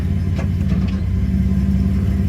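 Car engine fitted with an eBay SQV blow off valve runs steadily and loudly at close range, a constant low drone with slight swells in pitch and no talking.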